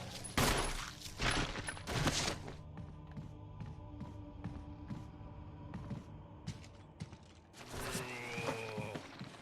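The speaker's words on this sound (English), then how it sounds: "when Chris is able to shoot the enemy, he will automatically turn around like that" Gunfire in the Resident Evil video game, sharp shots rapidly at first, then scattered mechanical taps and clanks, with another loud burst near the end, all without speech.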